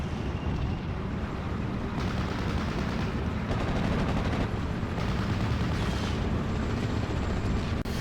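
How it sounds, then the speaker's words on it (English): Mortar rounds exploding in the World War II strategy game Steel Division Normandy 44, loud dense booms and crackling gunfire overlapping in a constant rumbling barrage, close and heavy throughout with no talk. "they're dropping mortar rounds on me"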